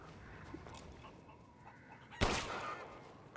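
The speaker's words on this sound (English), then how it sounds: "Shoot the chicken." A chicken clucks in Resident Evil Village, faint scattered clucks over a dim ambient background, then a sudden loud squawk near the end.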